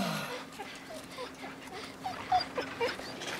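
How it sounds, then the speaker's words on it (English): A dog whimpering and yipping in The Walking Dead Season 2 video game, faint, intermittent whines over a low background hum, with a couple of sharper cries toward the end. "Is that a zombie dog?"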